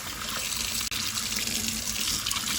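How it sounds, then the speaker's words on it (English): Tap water runs steadily from a faucet into a sink, rinsing gold earrings, a continuous close splashing rush with one brief dropout. "Rinse them off real good."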